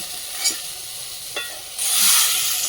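Pieces of burnt-looking fish frying in oil in a kitchen pan, a steady hiss with two brief spatula clinks and a louder, brighter sizzle swelling near the end.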